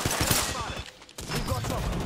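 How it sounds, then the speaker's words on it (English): Rapid gunfire in Apex Legends crackles in dense, loud bursts that pause briefly and then resume, close and sharp. "I am taking fire, friends."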